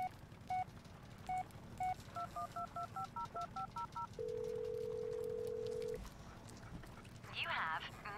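A phone's voicemail system in the horror game Blair Witch plays a series of short electronic keypad beeps in a quick irregular pattern, then a long steady tone, with a voice speaking faintly in between.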